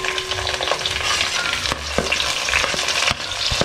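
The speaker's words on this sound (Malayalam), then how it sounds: "അപ്പോൾ ഇനി നമ്മൾ അടുത്ത് ഇടുന്നത് ഇതിലേക്ക് ചുവന്നുള്ളിയാണ്," Small red shallots frying in hot oil, a dense close sizzle with occasional stirring knocks and scrapes against the pan, no voices over it.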